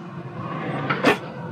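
A kitchen drawer holding cutlery in a motorhome opens or shuts with one short, sharp knock near the end, over a steady low background hum.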